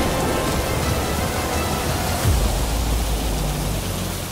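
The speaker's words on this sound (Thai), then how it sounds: "พายุฝนมาแล้ว" A heavy rainstorm, steady broadband rain noise pouring continuously at full strength throughout, with a brief low rumble partway through; no voices.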